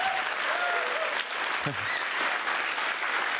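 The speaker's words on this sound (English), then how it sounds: "So I would like a huge round of applause for all of our volunteers" A conference audience at a Python programming event applauds the volunteers with a loud, continuous roar of clapping, a few indistinct voices and a brief whoop rising faintly within it.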